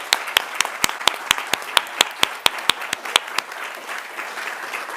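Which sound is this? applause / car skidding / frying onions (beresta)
applause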